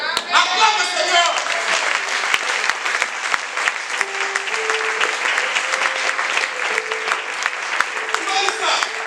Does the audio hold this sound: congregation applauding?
yes